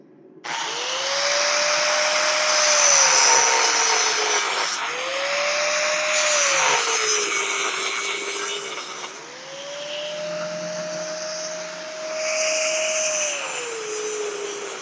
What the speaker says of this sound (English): So I am going to grab the angle grinder.